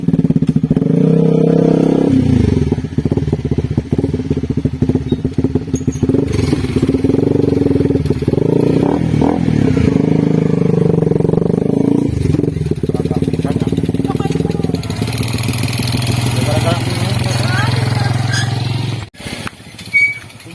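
A motorcycle engine runs loud and close for about twenty seconds, idling and revving with a mechanical clatter before cutting off near the end, while people talk over it.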